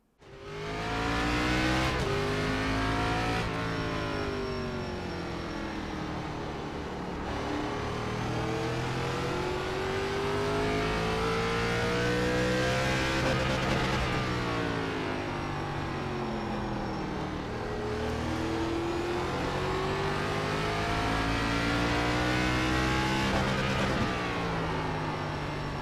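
ARCA race car lapping Martinsville in the iRacing game, engine revving up on each straight and dropping hard under braking into the tight turns, loud and continuous with repeated rise-and-fall cycles.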